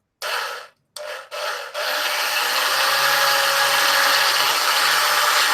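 A drill bit twisted by hand into a wooden orrery part, giving a steady, close grinding and rubbing scrape that runs continuously after a few short broken starts.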